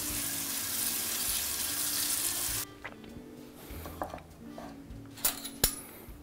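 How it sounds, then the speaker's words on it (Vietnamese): Cabbage rinsed under a running kitchen tap, a steady broad rush of water for a few seconds, then the flow stops and soft clinks and drips follow. "Bây giờ mình sẽ đem bắp cải này qua để rửa."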